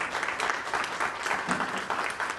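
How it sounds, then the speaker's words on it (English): An audience applauds presentation groups at a leadership program event, with a continuous patter of many hands clapping at an even level across the whole stretch, fairly close and with no speech over it. "give another round of applause for all the other groups already went"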